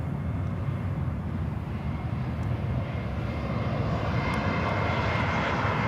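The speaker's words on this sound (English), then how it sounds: "Atlas Air 747." Atlas Air Boeing 747 cargo jet at Miami airport, a continuous broad engine roar heard from a distance, steady and building slightly over several seconds.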